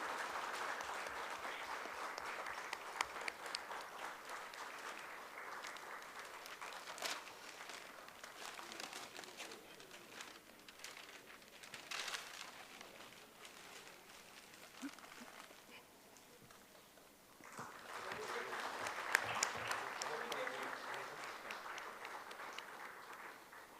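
A crowd applauds steadily for a long stretch, dipping briefly before swelling again into fuller clapping.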